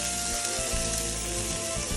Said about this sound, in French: On remet un peu d'huile végétale dans la poêle sans la laver. Et on y verse nos échalotes. On les fait revenir quelques secondes.